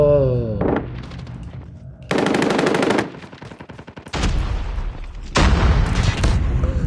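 In a first-person shooter game, automatic rifle fire comes in several loud bursts mixed with booming explosions and thuds, while a player talks over the action.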